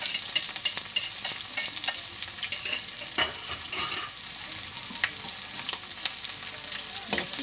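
Cumin, a bay leaf and onion fry in hot oil with a steady, bright sizzle and crackle, broken by a few sharper pops and stirring scrapes, close and fairly loud, with no talking.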